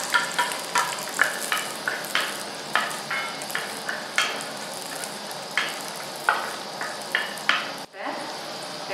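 Onions sautéing in hot oil in a home kitchen while cooking oyster mushroom masala: a steady close sizzle with regular spatula scrapes and stirs throughout.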